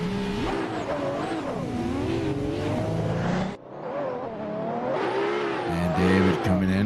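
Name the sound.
drift car engine revving during drift competition run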